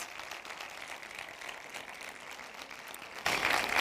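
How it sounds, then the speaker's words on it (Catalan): Cinema audience applause at a TV series presentation, with faint, distant, steady clapping that swells louder in the final half second. "Un aplaudiment per a ells, per als 3"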